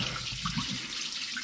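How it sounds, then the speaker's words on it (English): Rinse water used to wash tomatillos and peppers is poured out of a pot into a kitchen sink, a steady close splashing gush with a few brief gurgles. "Pour it all out."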